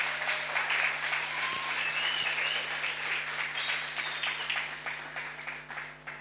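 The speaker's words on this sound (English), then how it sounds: "Let's give him a big hand." An audience at a book launch claps for a young saxophonist, a sustained round of applause held at a steady level throughout, with faint whistles or tonal sounds rising above the clapping and an even background hum beneath.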